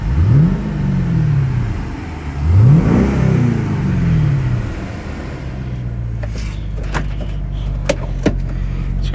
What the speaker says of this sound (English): So let's go for a little test drive.